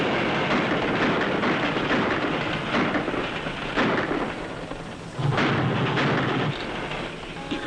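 A heavy, continuous rumbling roar of a train in a 1941 Western film, loud and close throughout, with surging bursts and low thuds.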